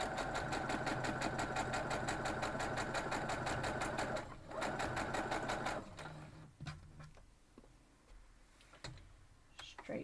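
A sewing machine stitches quilt block pieces in a loud, rapid, even mechanical run that briefly pauses, resumes, then stops, leaving quieter handling clicks and rustles.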